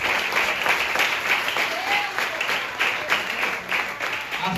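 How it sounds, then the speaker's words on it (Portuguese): A church congregation claps during a family worship service, dense sustained applause filling the whole stretch at a fairly loud, even level. "As palmas são para glorificar o nome de Jesus"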